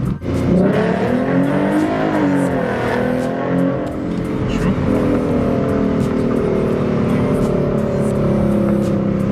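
A Mustang fitted with 3.73 gears pulls hard under full acceleration, a loud continuous engine roar rising in pitch through the run and heard from inside the car, with brief voices underneath.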